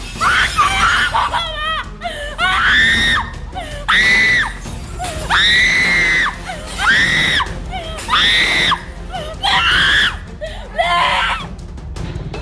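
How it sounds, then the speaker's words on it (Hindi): Several people scream loudly and repeatedly during an attack, shrill cries rising and breaking in bursts with short gaps, some overlapping, alongside faint thuds and background commotion. "ये चीखें सुनकर कलेजा फट रहा है"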